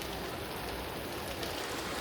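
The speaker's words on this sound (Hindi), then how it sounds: "बारिश इतनी तेज पड़ती जा रही है" Heavy rain pours down in a constant, dense roar of hiss beside the rising Tawi River in Jammu, unbroken and close throughout.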